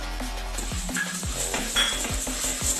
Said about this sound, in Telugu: పక్కన మళ్ళీ పాన్ పెట్టుకొని ఇప్పుడు ధనియాలు కూడా ఒక కప్పు పోసుకొని వేయించుకుందాము.